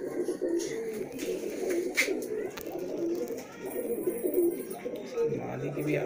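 Malwai pigeons, a prize-winning breed show pair kept in Jalandhar, coo repeatedly in soft low rounded calls close by, with light rustling and faint background voices.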